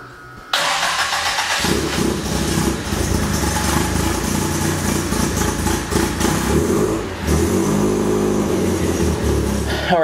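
A car engine cranks and fires, then runs loudly and steadily up close as it warms up before an oil change.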